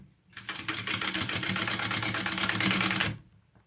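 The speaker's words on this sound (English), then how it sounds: "I'm going to go ahead and just baste this together real quick." Sewing machine basting two pieces of fabric together, a fast, even mechanical rattle that starts abruptly, runs steadily for under three seconds and stops, close and clear without talking.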